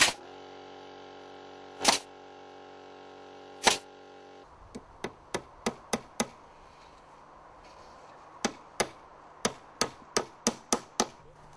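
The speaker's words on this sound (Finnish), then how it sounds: "Naulaa tolppa kiinni." Hammer blows drive nails into a wooden frame post, starting with a few isolated sharp strikes, then quick runs of rhythmic hits, close and ringing, with no talk.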